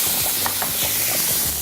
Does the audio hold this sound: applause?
no